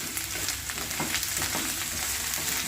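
Potatoes frying in a pan, a continuous soft sizzle at moderate level with light stirring scrapes.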